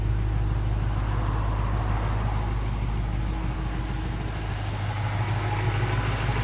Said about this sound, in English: we've been idling for about maybe 5 minutes and the vehicle is still running just fine.